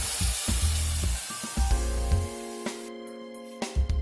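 Chickpeas hit hot oil with ground tomato and onion in a kadhai for Nagpur-style tarri, a steady close sizzle and hiss with bursts of stirring and spattering.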